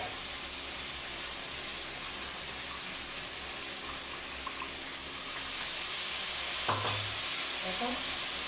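Onion, tomato and ginger-garlic paste fry in a pan for an egg and potato curry, making a steady moderate sizzle with faint stirring sounds and a brief low knock near the end.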